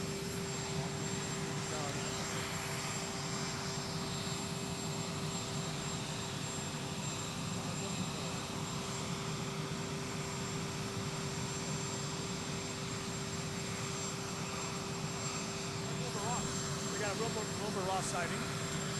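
Air Force One's jet engines idle after landing at Palm Beach International Airport, a steady, distant drone with a constant whine, and faint voices blend into the background.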